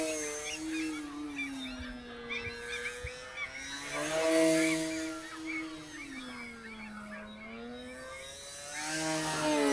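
An E-Flite Decathlon radio-controlled model airplane flies overhead, its electric motor whine rising and falling as the throttle opens and eases, swelling loud as it passes closer.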